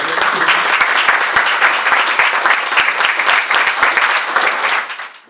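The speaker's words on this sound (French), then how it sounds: "Je demande simplement vraiment de l'applaudir." A room full of people applauds loudly at an evening launch event at the Dolce La Hulpe, the clapping dense and close with some louder individual claps, before fading out at the end.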